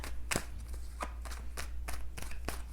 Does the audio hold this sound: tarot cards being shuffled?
yes